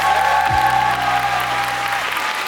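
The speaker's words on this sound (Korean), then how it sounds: "너무 멋있게 해준 우리 친구들한테 박수 한번 드리겠습니다" Audience applause for the performers of the Korean show musical Again Dream High, dense clapping from a theater crowd heard under sustained music tones, loud and continuous throughout.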